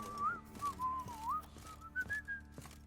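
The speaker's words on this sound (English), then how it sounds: "Stop whistling!" A melodic whistle from The Witcher 3 rises and falls in pitch, a short tune of sliding notes, faint and alone over a low background.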